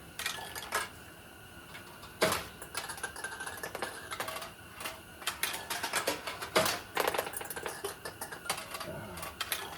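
A restored 1960s Heiwa pachinko machine in play, giving a busy run of metallic clicks, rattles and ball clatter with several sharper clanks, close and fairly quiet, with no talk.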